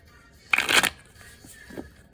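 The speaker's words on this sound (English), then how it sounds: "I'm gonna shuffle this first deck a couple more times here and split the deck" Deck of tarot cards being shuffled, one quick riffling burst of about half a second, close and fairly loud, followed by faint rustling handling, with no talking.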